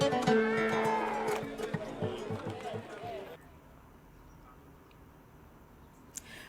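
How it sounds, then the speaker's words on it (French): Sheep bleat amid the bustle of a dusty livestock market as sellers and buyers trade before a festival. Calls and crowd noise fill the first half, then fade to a quieter, steady background murmur. "les moutons continuent de bêler sous la poussière"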